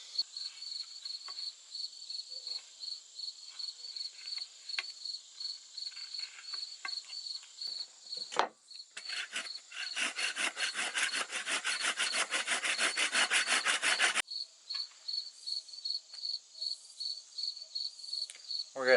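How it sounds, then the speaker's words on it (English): A hand saw cuts a kerf in a wooden axe handle in a rapid run of rhythmic rasping strokes lasting several seconds, with a steady chorus of crickets chirping around it before and after. "Then we'll take the head back off and cut a kerf"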